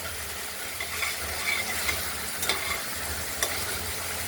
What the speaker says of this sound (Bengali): মশলাটা কষানো হয়ে গেছে প্রায়।